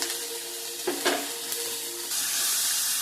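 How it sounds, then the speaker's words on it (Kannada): Capsicum frying in a pan with salt, a steady close sizzle with a few brief stirring scrapes, growing slightly louder toward the end, no voices. "ನೀವು ಸ್ವಲ್ಪ ಫ್ರೈ ಆಗಿದೆ ಕ್ಯಾಪ್ಸಿಕಮ್"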